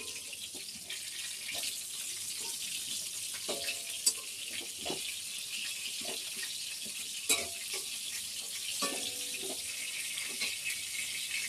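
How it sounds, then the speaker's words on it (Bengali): Eggplant frying in a pan gives a faint, steady sizzle throughout, with a few soft clinks and stirring sounds scattered over the quiet hiss. "বেগুন ভাজছি।"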